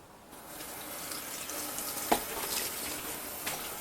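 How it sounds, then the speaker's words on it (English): Tap water runs steadily into a kitchen sink as vegetables such as carrots are washed for chicken soup, a continuous close splashing rush with a brief clink partway through. "you wash the veg"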